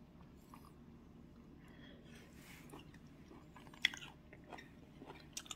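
Someone chews crunchy raw sea bass belly up close. The chewing is soft and wet, with scattered sharper crunches, and the room is otherwise quiet.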